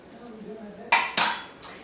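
Butter knife scoring an avocado for guacamole, heard as two or three short, close scraping clicks against the skin and a hard surface, separated by brief pauses.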